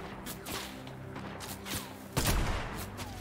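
Sniper gunfire in a Fortnite match, several sharp shots cracking over a continuous game soundscape, with one louder blast near the end.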